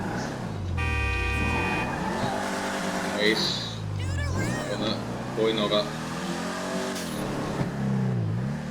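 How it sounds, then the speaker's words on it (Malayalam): A muscle car engine in GTA 5 revs and drones, its pitch climbing and falling through several throttle sweeps with horn-like tones mixed in, while someone talks over it. "ശബ്ദം തന്നെ കേട്ടോ, ഇത്ര പവറാണ് ഈ വണ്ടിയുടെ"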